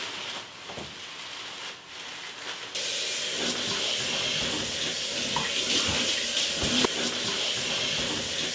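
Kitchen faucet running a steady, full hissing stream of water to rinse a whole turkey inside and out in a sink, close and continuous with no talk.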